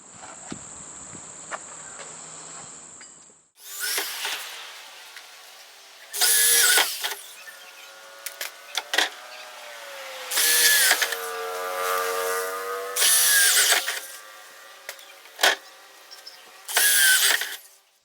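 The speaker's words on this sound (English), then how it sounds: "we're now going to drill the 64mm holes" A power drill fitted with a 64mm hole cutter bores vent holes for a retro kit, starting after a brief high whine and cutting in several loud, sustained bursts separated by short pauses, with strong resonant tones while the drill bites.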